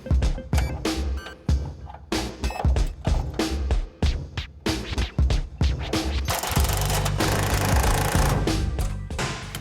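Drilling holes into the steel frame rails of a 1970 Camaro makes loud, rough bursts in repeated short stops and starts, then one longer continuous grinding run near the end.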